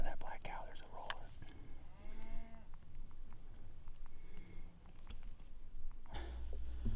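A small black cow lows out in open Arizona country, its moo a faint, low call carried over steady outdoor background noise.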